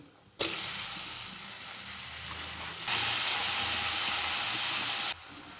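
Onions and tomato sautéing in a pan for sundakkai vatha kuzhambu give a loud, steady, hissing sizzle that starts abruptly, grows stronger about halfway through and then cuts off sharply near the end.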